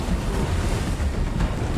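Loud, rough roar of wind and crashing waves on a stormy sea, a dense continuous rumble with no voices.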